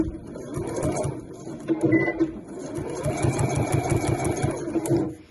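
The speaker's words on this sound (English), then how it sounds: "then I'll swivel that round and sew down the next side" A sewing machine stitches down the folded edge of a fabric placemat, running in a steady close mechanical whirr for several seconds with a brief pause as the work is swivelled, then winding down at the end.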